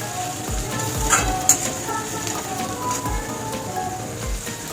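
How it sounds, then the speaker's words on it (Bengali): Onions sizzle and fry steadily in a pan with salt added, a close continuous crackle with light stirring and occasional soft knocks, no talking. "পেঁয়াজটা আমি বেশ ভালো করে ভেজে নিয়েছি।"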